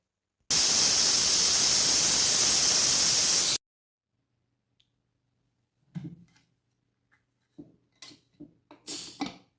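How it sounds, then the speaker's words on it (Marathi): A pressure cooker on the stove cooking dal releases steam in one loud, steady hissing burst lasting about three seconds, then falls quiet except for a few faint clinks and knocks. "कुकरचे आपण 3 शिट्या करून घेतलेल्या आहेत."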